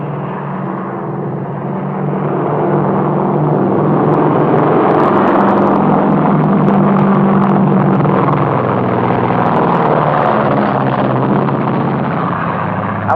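A propeller plane drones overhead, its engine rumble swelling loudly after a quieter start and holding steady throughout.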